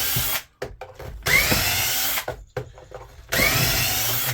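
A power drill spins screws out of a power strip in three separate whirring bursts, each about a second long, with short pauses, clicks and handling noise between them, heard close up.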